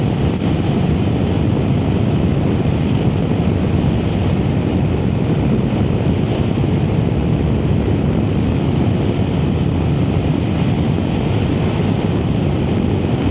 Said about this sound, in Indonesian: Kuat sekali anginnya, sumpah.